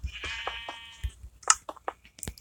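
Sheep on a video game sheep farm bleat in several short, clear calls with clicks and small game sounds between them, fairly quiet and without talk.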